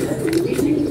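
Pigeons coo in a brief, low, throaty rolling burst, close and steady, with no talking.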